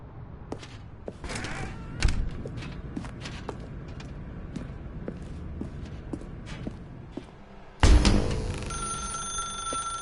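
Telephone ringing in the video game The Stanley Parable, a bright repeating ring at the end that follows soft footsteps and thuds in a dark room.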